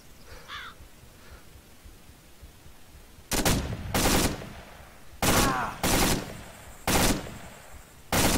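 Video game gunfire comes in short, loud bursts after a quiet stretch, five or six separate volleys spaced a second or so apart, with faint background ambience and no speech over them.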